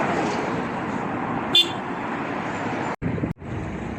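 Busy street traffic hums steadily with a short car horn toot near the middle, then the sound cuts out briefly twice.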